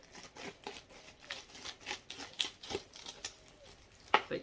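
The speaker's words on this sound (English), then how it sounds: "I'm just going to use the scissors on this one." Scissors snip and crinkle through a package, a run of close, quiet cuts and rustles in irregular rhythm with no talking.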